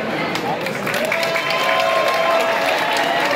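Audience applause for costume contest entrants at a convention, a dense, loud, sustained clapping from a crowd that holds steady throughout.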